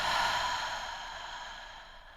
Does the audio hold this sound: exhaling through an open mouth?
yes